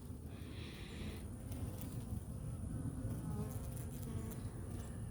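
Honey bees hum in a continuous, dense drone from an open hive with pollen patties, close and steady throughout, with a few brief individual buzzes passing nearby.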